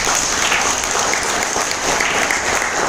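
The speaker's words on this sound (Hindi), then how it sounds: "और योगेश भाई के लिए जोरदार तालियां चाहिए" Loud, sustained applause from an audience at an all-India leaders' training in a Mumbai office, dense clapping running steadily throughout without a break.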